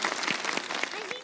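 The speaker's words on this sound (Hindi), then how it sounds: "तालियां बजा दे" Brief burst of studio audience applause on a Pakistani kids' segment TV show, dense clapping with voices and talk mixed in over it.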